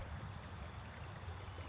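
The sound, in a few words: water flowing out of the Erie Canal waste weir into Wood Creek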